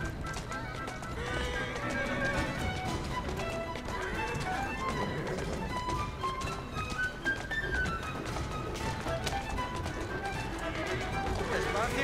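A horse gallops in Assassin's Creed Syndicate, hooves drumming rapidly with whinnies over a busy game soundtrack, while an excited voice talks throughout.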